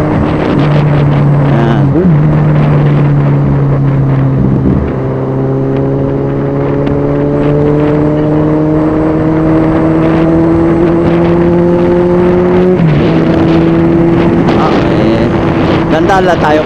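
Motorcycle engine on a group ride, loud and close, holding steady drones with rising revs and several gear shifts, mixed with wind buffeting and some talk.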